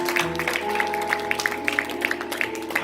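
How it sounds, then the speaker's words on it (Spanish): Church congregation applauding the Lord during a sermon, clapping in quick irregular claps over a sustained organ-like musical drone, moderately loud and continuous. "Vamos a darle un fuerte aplauso al Señor."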